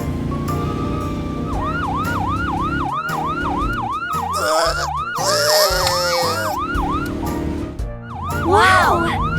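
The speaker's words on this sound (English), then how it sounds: "Police car!" A cartoon police car siren wails in a steady repeating rise-and-fall cycle, loud and close, with rumbling vehicle sounds and bright effects beneath, interrupted by short bursts of other noise.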